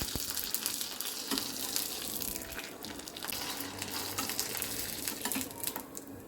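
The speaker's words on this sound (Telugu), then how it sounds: "ఇప్పుడు వీటిని డీప్ ఫ్రై చేసుకుందాం" Homemade sooji vadiyalu deep frying in hot oil, giving a loud, continuous bubbling sizzle with crackling spikes throughout and no talking.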